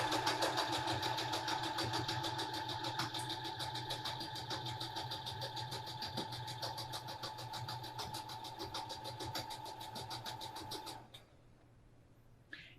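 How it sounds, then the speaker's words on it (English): A sewing machine stitches quilted cotton fabric, its needle running in a fast, even mechanical rhythm close by for about eleven seconds before stopping abruptly. "it's going to sew a line 1 inch to the left, providing my quilting guide follows this line of stitching through the machine"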